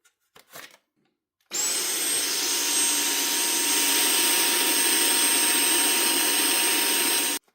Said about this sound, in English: you can run the vacuum cleaner without a filter for a while